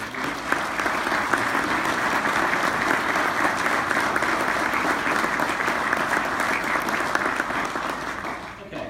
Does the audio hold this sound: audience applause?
yes